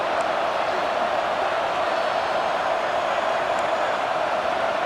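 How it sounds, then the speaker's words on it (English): A stadium crowd roars in a college football video game, NC State at Duke, during a red zone defensive stand: a loud, dense, unbroken wash of crowd noise that holds steady throughout. "And here comes the noise. This crowd is trying to inspire this defense to make a big red zone stop."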